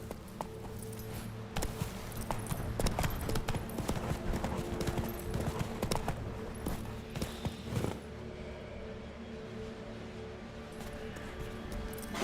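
Horse hooves clip-clopping at a steady gallop in The Witcher 3: Wild Hunt, loud and continuous with game music and ambience beneath, an occasional whinny, fading to a softer bed in the last seconds.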